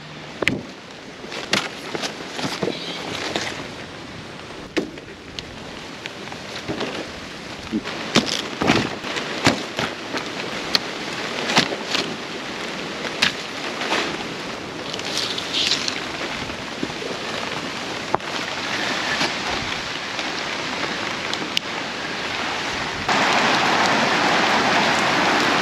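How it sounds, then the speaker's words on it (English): Rain falling on a tropical beach, a steady broadband patter with scattered sharper drops and splashes, rising to a heavier, denser downpour near the end. "Right, I need to go because it's raining."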